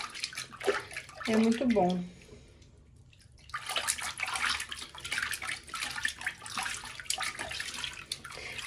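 Water splashes and runs steadily while a ten-day-old baby is bathed in a tub, continuous close sloshing and trickling, with someone talking softly and a brief quiet pause midway.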